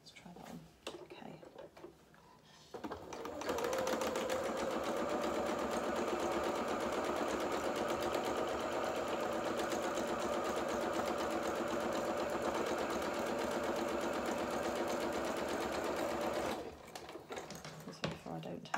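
A sewing machine zigzag stitches along the raw edge of fabric for doll-sized culottes, a fast steady mechanical whirr running about fourteen seconds, with quieter handling before it starts and after it stops.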